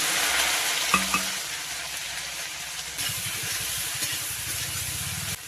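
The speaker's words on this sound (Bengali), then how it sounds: "এখন এই তেলে ভেন্ডি ভেজে নেব। তেল গরম হয়ে গেছে, যে ভেন্ডি দিয়ে দিচ্ছি।" Okra fries in hot oil in a home kitchen, a continuous close hiss and crackle with a brief clatter early on and a rougher burst of sizzling toward the end, no voices present.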